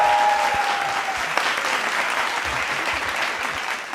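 Audience applause at a Hindi political satire comedy show, a dense steady wash of clapping from start to finish with a faint tone briefly at the start.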